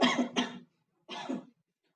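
Two coughs in quick succession, then a pause and another harsher cough, close and fairly loud with no talking.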